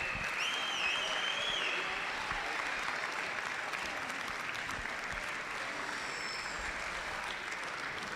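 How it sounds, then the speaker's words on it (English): Steady, sustained crowd applause fills the venue after an under-18 boys basketball grand final between Western Australia and Victoria, with whistles and cheers rising over dense clapping throughout. "please keep the applause going for our 2 grand finalists"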